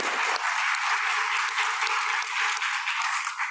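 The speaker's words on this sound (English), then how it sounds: "I just think that deserves another round of applause" A crowd at a morning forum session gives a round of applause, a thick, continuous wash of clapping that stays loud and even throughout.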